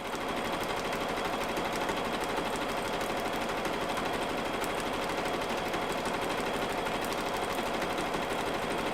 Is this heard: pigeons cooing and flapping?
no